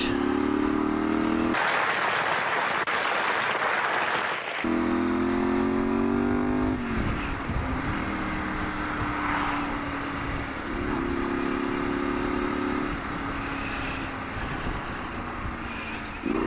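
A Honda Varadero 125 motorcycle engine hums and revs while riding, gear changes shifting the pitch up and down, with wind rush throughout.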